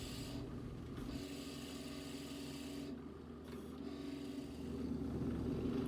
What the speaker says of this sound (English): I sand the dowel end smooth